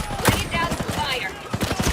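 Rapid bursts of automatic gunfire in the Ghost Recon Breakpoint video game, sharp cracking shots in quick clusters at the start and again near the end, loud and close.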